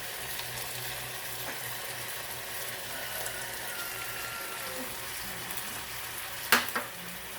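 Squid and vegetables frying in a pan with ketchup, giving a continuous close sizzle, with a couple of sharp scraping clinks of stirring near the end.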